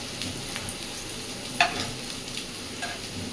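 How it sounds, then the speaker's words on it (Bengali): Soybean and lentil koftas shallow-frying in a little oil in a frying pan, a steady close sizzle with a sharp metallic tap midway and light stirring, no voices. "আর দেখতেই পাচ্ছেন ফ্রাইং প্যানে ভাজা হচ্ছে"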